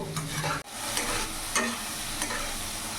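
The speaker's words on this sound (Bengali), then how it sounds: "কিছুক্ষণ আমি নাড়াচাড়া করে একটু হালকা ভেজে নেব।" Spices and chopped tomatoes stirred and fried in oil in a pan over a medium gas flame, giving a steady close sizzle broken by spoon scrapes and stirring strokes, with no talk.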